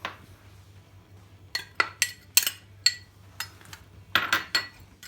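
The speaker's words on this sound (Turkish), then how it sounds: "Çatal ile çırpıyorum." A fork whisks eggs in a bowl for a breakfast omelette, quick scattered metallic clinks tapping against the dish, quiet and close with no talking.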